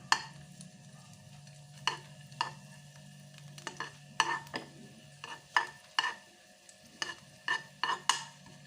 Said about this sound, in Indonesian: ini kita tumis bawang merah dan bawang putihnya sampai tercium bau atau aroma yang harum